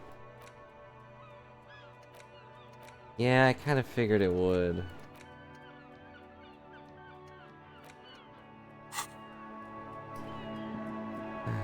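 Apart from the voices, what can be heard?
invisible bird calling in the video game Disco Elysium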